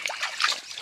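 Water trickles and splashes softly and steadily while fields are being irrigated on a farm, a brief close-up burble with no other sounds.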